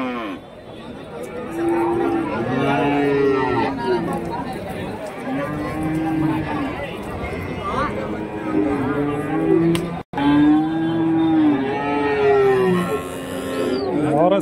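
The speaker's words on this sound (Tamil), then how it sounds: "அதே வந்து மாடுங்க நின்றுட்டு தான் இருக்குங்க." Cattle at a livestock market in Karimangalam, Dharmapuri, where young calves are sold. Repeated loud moos and bellows ring out nearby, one after another, over a murmur of crowd noise in the background.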